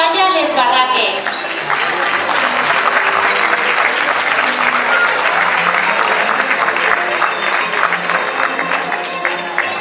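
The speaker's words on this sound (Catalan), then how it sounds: "Despedim amb un fort aplaudiment a la Falla Les Barraques" Loud, sustained clapping from a crowd at a Valencian falla exaltation ceremony sends off the Falla Les Barraques delegation, with a brief voice at the start and steady dense applause throughout.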